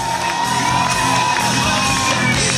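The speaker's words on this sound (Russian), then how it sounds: "Ваши аплодисменты!" A KVN comedy final audience cheers and shouts loudly, a dense roar of whoops and high voices with clapping underneath, continuous and close throughout.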